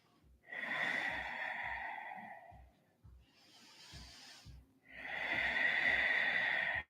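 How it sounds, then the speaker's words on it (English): Slow, deep breaths during a yoga session, two long drawn-out hissing exhalations with a quieter breath between them, close and steady with no talking. "Lengthening the breath"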